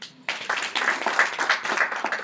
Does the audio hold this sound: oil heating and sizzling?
no